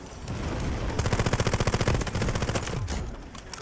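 Automatic gunfire in the shooter game Delta Force: a rapid, evenly spaced burst of loud, close shots lasting about a second, amid sustained crackling battle noise with more scattered firing around it.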